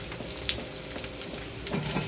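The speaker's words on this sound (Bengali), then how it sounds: "তো দেখো, আলু কাঁচকলাটা ভাজা হচ্ছে" Potato and green plantain pieces fry in oil for a fish curry, giving a steady low sizzle with a couple of soft clinks and a small bump near the end, fairly quiet and with no voices.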